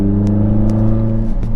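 Renault Sandero RS under acceleration on a test drive after a suspension check, a loud steady engine drone with rising tonal harmonics and faint clatter, no voices.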